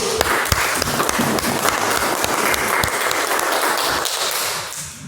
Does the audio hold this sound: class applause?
yes